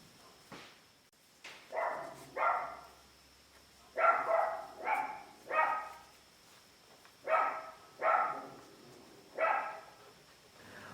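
Dog outside barking in clusters of two or three sharp, moderately loud barks separated by short pauses, heard at some distance with no talking.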